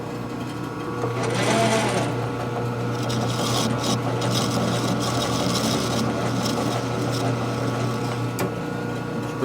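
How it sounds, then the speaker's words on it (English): Lathe cutting threads on a part for a junk Harley panhead race motor, a steady close mechanical whir with a low hum and scraping cutting noise, running continuously with no talk. "That's one nice thing about a lathe, you can cut threads, or in this case, fix the thread."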